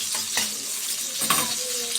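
Garlic frying in ghee in a home kitchen pan, a steady close sizzle broken by a few brief stirring clatters, with no talking.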